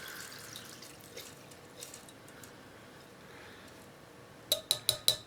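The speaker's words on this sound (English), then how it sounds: "essentially just pour it through my strainer" Echinacea tincture poured from a jar through a strainer: soft liquid trickling at first, then a quick run of five bright glassy clinks near the end, close and clear.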